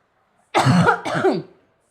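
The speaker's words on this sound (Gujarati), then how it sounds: "અને થોડીક હમણાં ઉધરસ થઈ ગઈ છે." Two quick, harsh coughs close by, one right after the other, with silence before and after.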